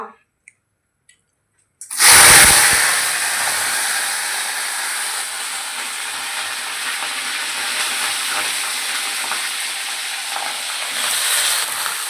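Cauliflower hitting hot oil for a ground nut paste curry, a sudden loud sizzle that settles into a steady, continuous frying hiss close by, after a quiet start.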